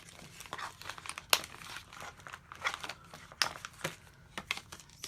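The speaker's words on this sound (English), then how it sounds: "I'm gonna go ahead and open this up so that we can get to these tapes here." Plastic packaging around sewing tapes is opened up close, with crinkling, rustling and sharp crackles in irregular bursts.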